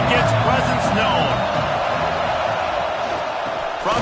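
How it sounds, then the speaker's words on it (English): Stadium crowd noise from College Football 26, a loud steady roar with a few whoops rising over it, with commentary talk running underneath. "This crowd ready to make its presence known."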